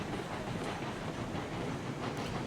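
A train in the RailRoads Online video game rolls into a station, a steady dense rumble of wheels and running gear with faint clicks and a hiss near the end, continuous and fairly close.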